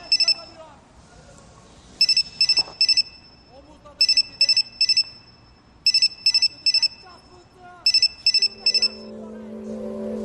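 A phone rings in bursts of short electronic trills, several rapid chirps per burst repeated about four times, over a quiet room in a Turkish drama scene; a soft voice speaks briefly near the end.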